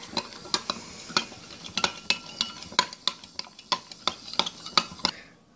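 Vinegar and a powder are stirred together in a container, making rapid, regular scraping taps of a utensil, close by, with no talk, before fading out at the end.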